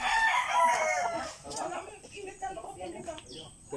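A breeding gamecock rooster lets out one loud, drawn-out crow at the start, then the flock continues with softer scattered clucks and rustling, with voices faintly present in the background.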